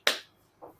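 One person claps once, a sharp, close smack. A softer, shorter clap follows about half a second later.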